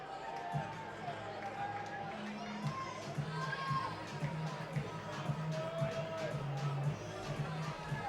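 Steady murmur of a large baseball crowd at Bosse Field during an evening minor-league game, a continuous far-off babble with scattered shouts under a play-by-play announcer's voice.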